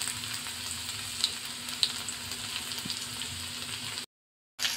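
Chopped garlic and chilies frying with cumin in hot oil, a steady soft sizzle with a few small pops, fairly quiet, with a short gap near the end.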